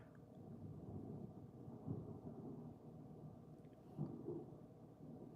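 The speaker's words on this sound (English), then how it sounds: "Oh, we got a thunderstorm going on here too. Nice. Got some thunder in the background." Distant thunder rumbles low and steady through a thunderstorm, with two heavier swells of rolling thunder standing out against the continuous murmur of storm noise and light rain.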